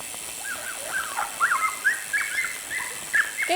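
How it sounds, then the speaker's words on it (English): Somewhere off in the woods, a small yappy dog lets out a run of high-pitched yips and whiny barks. The calls come irregularly, some spaced apart and some bunched together, and all are fairly faint over a quiet outdoor background. "I can hear a little yappy doggy."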